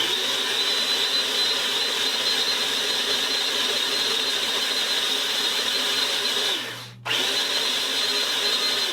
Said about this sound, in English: we're going to beat these on high with the whisks until soft peaks form